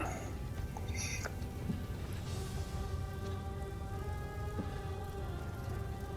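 A video game thunderstorm delivers a steady wash of heavy rain pattering on surfaces, continuous and even throughout, with a faint low rumble beneath and a few brief higher tones near the start.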